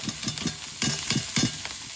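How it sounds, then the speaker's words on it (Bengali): Gima greens are stir-fried in a pan over a home cooking stove, giving a close sizzling hiss broken by rhythmic scraping stirs about every quarter second, with no talking. "এবার গিমা শাকগুলো দিয়ে দেবো।"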